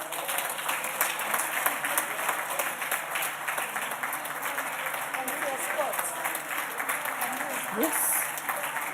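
Audience applause in a National Assembly chamber, a steady dense clatter of many hands clapping throughout, with some voices mixed in beneath it.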